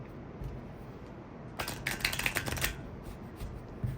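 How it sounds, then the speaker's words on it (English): A deck of playing cards gets a quick riffle shuffle at a beach, a brief burst of rapid fluttering clicks lasting about a second over low wind noise. "Then we give it a second shuffle."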